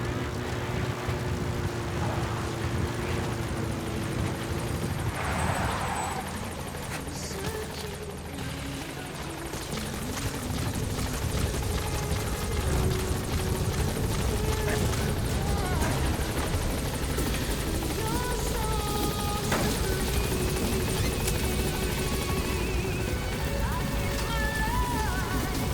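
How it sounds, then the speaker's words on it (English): A support helicopter arrives in Metal Gear Solid 5: The Phantom Pain, its steady rotor thrum and engine whine loud and constant, under intermittent game dialogue. "Support helicopter has arrived."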